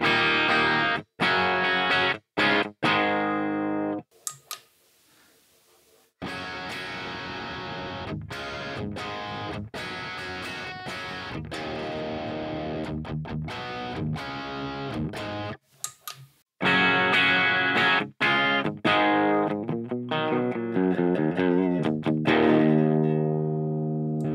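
Distorted electric guitar through a Hotone Mojo Attack pedalboard amp with cab sim plays chords and riffs, with a few brief pauses and sharp breaks between phrases, loud and up close.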